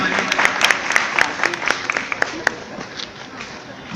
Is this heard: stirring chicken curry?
no